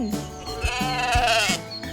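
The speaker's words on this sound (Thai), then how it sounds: "แกะชอบอยู่กันเป็นฝูง แกะแบะแบะแบะแบะ" A sheep lets out a loud, wavering bleat that rises and falls over about two seconds, heard close and clear with no talking.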